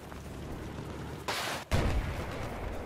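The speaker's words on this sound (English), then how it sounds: "You're taking fire" Battlefield 4 multiplayer gunfire: a loud, sharp blast bursts in after a stretch of quieter background din, then a heavy low boom follows and rolls on, no talking over it.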